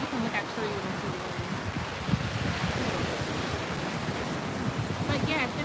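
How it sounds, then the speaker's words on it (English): Strong wind gusting across a beach on a blustery day, a steady roaring rush with surf churning underneath, constant and close to the microphone with buffeting noise. "Look at the beach today. Oh, it is windy."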